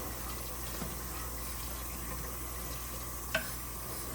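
Water poured steadily into a pot of beans, a low continuous rushing with a faint hum and one sharp clink near the end.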